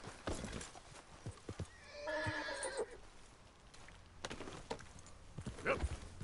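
A horse in Red Dead Redemption 2 lets out a clear, loud whinny near the middle, framed by scattered hoof thuds from slow walking steps, nearby and otherwise fairly quiet.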